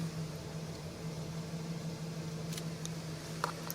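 A 2006 Nissan Frontier idling with a cylinder 1 misfire, heard from inside the cab as a steady low engine hum with faint rough pulsing, plus a few brief clicks near the end.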